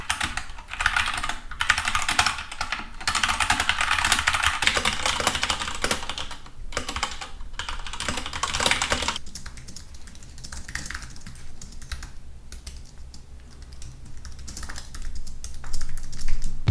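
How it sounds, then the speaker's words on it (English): Typing on mechanical keyboards, including a Keychron K4 with brown switches, gives a dense, continuous patter of close keystrokes with a brief pause, then a softer, thinner clatter from a different board. "Here's a quick comparison of sound between the 3 keyboards I usually have in rotation."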